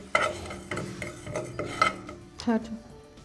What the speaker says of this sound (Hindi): इन दोनों को अच्छे थोड़ा सा भून लें।